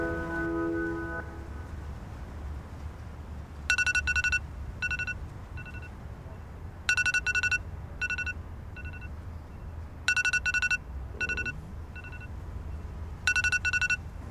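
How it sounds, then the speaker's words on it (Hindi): A phone alarm going off in a home in the morning, sounding repeated bursts of bright electronic beeping tones in regular clusters, loud and close over a low background rumble. "अलार्म बंद करना अपना"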